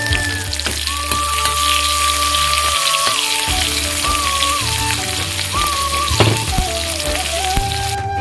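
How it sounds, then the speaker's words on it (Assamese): Sliced onion and green chillies fry in hot oil, a loud, close, continuous sizzle with a steady crackle throughout and a faint tonal hum running underneath. "এইখিনি তেলতে মই পিঁয়াজ আৰু কেঁচা জলকীয়া দুটা ভাজি ল'ম ৰঙা ভাজিকৈ।"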